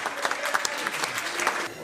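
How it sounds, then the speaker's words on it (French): An audience applauds at a raid event, a dense burst of many hands clapping with a voice talking over it, fading slightly at the end. "Vous pouvez vraiment nous applaudir"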